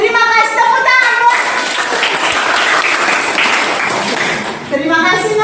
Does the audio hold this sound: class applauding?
yes